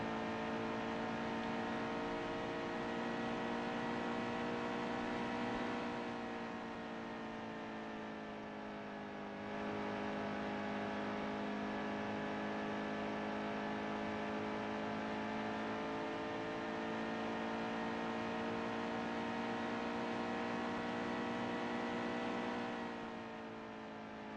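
A NASCAR Heat 2 race car on a qualifying lap at Miami Homestead, its engine holding a steady, loud high-revving drone for the whole lap with slight dips as it eases through turns, no voices.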